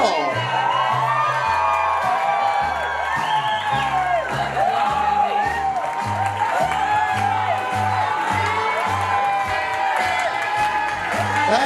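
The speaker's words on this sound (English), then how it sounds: "Let's make some noise for Victor escorting Carol." Wedding guests at a reception cheering, whooping and clapping for the groom's parents, a loud, steady crowd roar that holds throughout, with music and a voice on a microphone mixed in.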